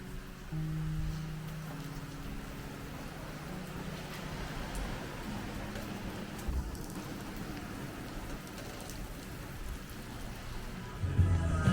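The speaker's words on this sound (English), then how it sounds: "It's raining." Rain falls steadily outdoors at a beach resort, a soft continuous hiss with faint low rumbles and occasional brief clatters, no talking.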